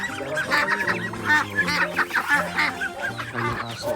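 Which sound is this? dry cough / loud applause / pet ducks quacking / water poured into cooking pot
pet ducks quacking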